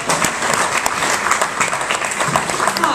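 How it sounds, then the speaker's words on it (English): An audience at an urban design event applauds, a close, busy patter of many hands clapping continuously for a few seconds. "Round of applause."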